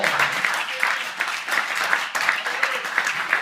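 A church congregation applauds and cheers during a pastor's sermon: dense, continuous clapping with shouts rising and falling in waves, fairly close and loud throughout.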